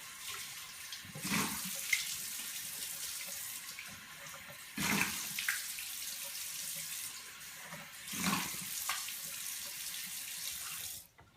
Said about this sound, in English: I'm really just rinsing my eyelids.